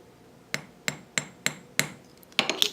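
A hammer taps a wire rivet in a series of six or seven sharp, evenly spaced metallic knocks, close and fairly quiet, with the last few coming quicker.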